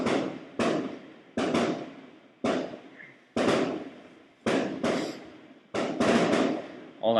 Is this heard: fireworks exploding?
yes